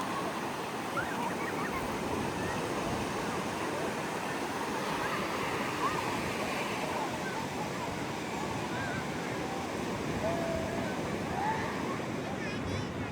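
Sea waves wash in at Malvan beach in a continuous, rushing roar with wind in the background and faint voices beneath.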